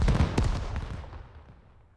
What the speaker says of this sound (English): UB-32's now raining down on the point.